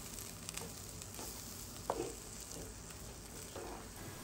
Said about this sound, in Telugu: ఇప్పుడు ఈ తాలింపు మొత్తం క్లీన్గా మిక్స్ అయిపోయే వరకు కలిపేసుకొని